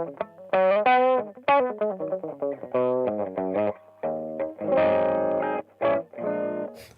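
An electric guitar with low-output pickups played through a Guyatone WR2 Wah Rocker envelope wah pedal, giving short distorted phrases of notes with a vowel-like filtered sweep, close and moderately loud.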